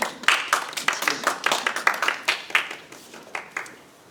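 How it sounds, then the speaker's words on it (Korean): A class audience claps at the end of the final session of a church lay-ministry academy lecture. The clapping is brisk and rhythmic, with a roughly steady beat of sharp claps close by that tapers off at the end. "오늘 마지막 시간인데 수고하셨는데 박수 한번."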